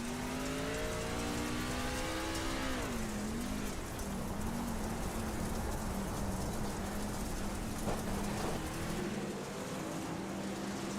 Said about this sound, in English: You can hear just how little throttle we have in the center of the corner.